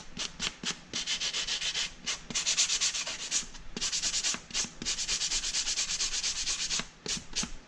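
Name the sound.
sanding armor belt boxes with 80 grit sandpaper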